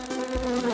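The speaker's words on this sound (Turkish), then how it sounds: "Bir sinek mi? Bana yardım etmek için mi buradasın?" A fly buzzes in an animated cartoon, a steady close whine with a sustained hum for under a second, no talking over it.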